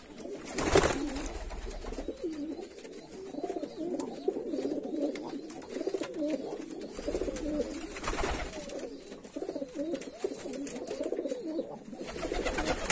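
Tumbler pigeons in a loft in Georgia coo in soft, overlapping rolling calls that run throughout, broken by a couple of sudden sharp bursts that could be wing flaps, with no talking.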